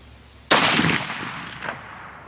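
A single sharp rifle shot cracks out while zeroing at 25 yards, a loud close report with a ringing decay and echo trailing off afterward.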